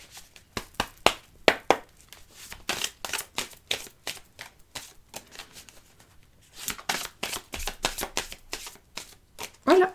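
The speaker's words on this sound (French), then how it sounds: "Je les remets dans le paquet." Playing cards handled at a table during a card reading, a quick series of crisp flicks and riffling snaps in bursts, close and clear, with a brief pause midway.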